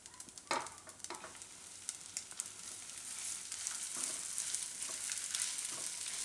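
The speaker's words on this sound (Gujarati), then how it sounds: "આ ઘઉંને આપણે ઘીમાં શેકી લેવું થોડીક વાર" Ground wheat roasting in ghee in a pan for laddoos, with a steady sizzle and repeated scraping stirs throughout, fairly quiet and with no talking.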